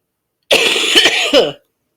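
A single harsh, raspy cough breaks a silence, loud and close, lasting about a second before stopping abruptly.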